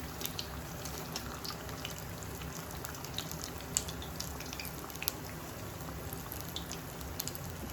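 Banana fritters made with curd sizzle and crackle steadily in hot frying oil as they are stirred and flipped, a dense, even bubbling hiss with small pops throughout.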